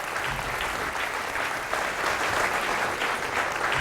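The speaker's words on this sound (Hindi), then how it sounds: "सारा पूरे हाउस ने आपकी बात पे ताली बजाई" A studio audience at a talk show claps together in sustained, dense applause, loud and even from start to finish, with no voices over it.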